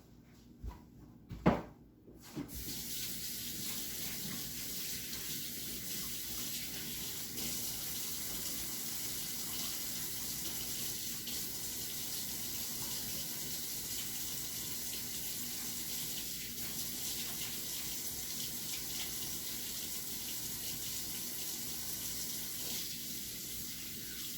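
A kitchen tap runs steadily while hands are washed during cheesecake making. A few knocks and clunks come first, then an unbroken, close, even stream of water with no talking.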